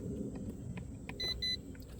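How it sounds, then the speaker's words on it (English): Two short, clear electronic beeps from a tow mirror module activating, in quick succession, cut through a low engine rumble inside a vehicle. "When you can hear the beep, now you know it's activated."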